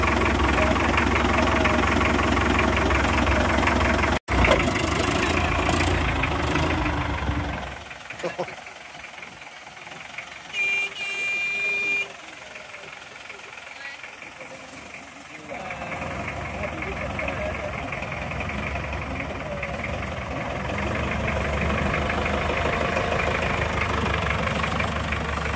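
An old, simple engine with no water pump, hoses or radiator fires up and runs loudly with a steady, knocking idle, drops away briefly for several seconds, then resumes running. People talk over it throughout.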